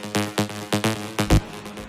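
Bright, harmonically rich synth lead from an electronic dance track, playing a punchy rhythmic pattern of short stabbed notes, loud and upfront with a heavier hit near the end.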